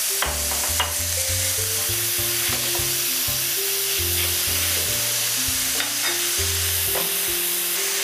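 Onions sizzle and crackle with a touch of garlic in a hot pan with leftover fat from fried meat, while a utensil stirs and scrapes steadily, the frying hiss continuous and close.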